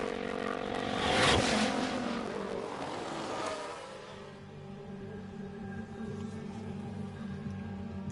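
Simulated Formula 1 car in F1 Manager 23 racing in rain at Silverstone, its engine or MGU giving an awful noise: a loud, rough engine drone that swells early, then settles into a steady, harsh tonal whine alone.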